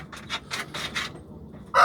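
An Indian game rooster from Diyarbakır, kept in a coop, gives a quick run of about five short, rasping calls close by, then a pause before a sharper burst at the end.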